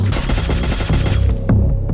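Automatic fire from a SCAR rifle in a shooter video game, a dense rapid stream of loud, evenly spaced shots that runs on without talk.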